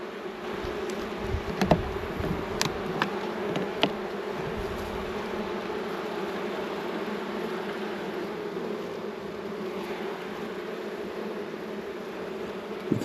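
Honey bees hum steadily in a dense, continuous drone at an opened beehive during a varroa treatment, close and even throughout, with a few brief clicks and knocks from handling the frames.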